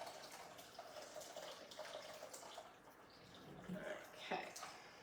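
Water pours into the metal bowl of a Magimix Cook Expert kitchen machine, a faint, steady splashing trickle that swells toward the end, with quiet talk in the background.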